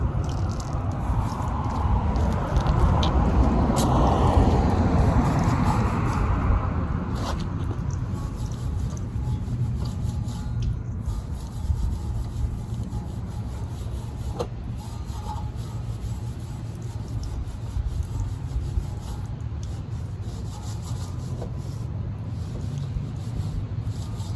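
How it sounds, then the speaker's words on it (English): Wheel woolies brush scrubbing the inside barrels of the wheels on a 2011 Cadillac DTS, a steady wet swishing and rubbing that runs continuously at close range, loudest early on and then settling into an even scrub. "you want to use these wheel woolies on wheels like this so you can get in"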